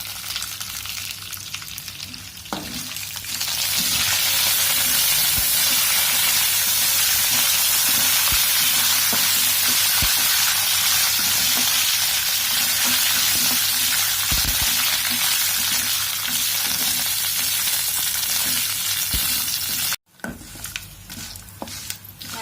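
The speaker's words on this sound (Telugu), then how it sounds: "ఎండు మిర్చి ముక్కలు అలాగే కరివేపాకు వేసుకొని కాసేపు వేయించుకోవాలి" Dry red chilli pieces and curry leaves fry with lentils in hot oil for a jackfruit curry, a loud, steady sizzle that swells after a brief quieter start and holds continuously near the pan, cutting off abruptly near the end.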